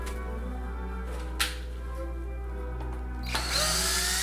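A power drill loosens the neck screws on a guitar, with a low steady hum, brief sharp spurts of whirring and a closing burst of higher-pitched drive noise, nearby and fairly quiet.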